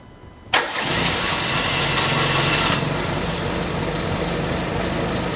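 A 1986 Porsche 944 Turbo cranks and fires up abruptly, then settles into a steady, loud, close idle that carries on with no voices.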